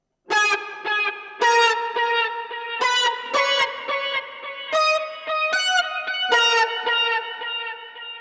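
Synth guitar tone from a Line 6 POD HD Pro, as used for a cover: a run of sharp, bright plucked notes with buzzy harmonics, each note sustaining briefly before the next, played alone.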